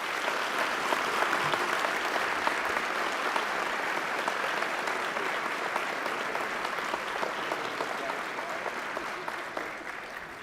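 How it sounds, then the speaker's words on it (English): A crowd at a fire department pinning ceremony gives honored guests a warm round of applause, a dense, steady clapping that fills the room throughout and tapers slightly near the end. "Please join me now in giving a warm round of applause to all the honored guests."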